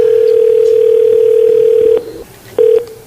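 A steady telephone dial tone on a phone call that reaches voicemail, holding loud and unbroken for about two seconds, then cutting off before a short second burst of the same tone.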